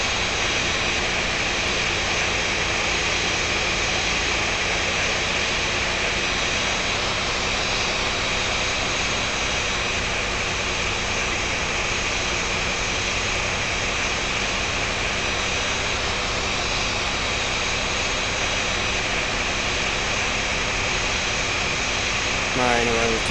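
A jet airliner engine spooling up during start in the X-Plane 11 flight simulator, a loud continuous whine and roar with steady tonal layers that holds throughout, close and alone.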